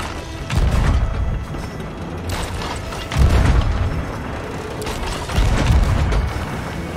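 Ship cannons firing in Sea of Thieves, three heavy booming blasts roughly a few seconds apart, loud and close, each with a rumbling tail over constant ambient game noise.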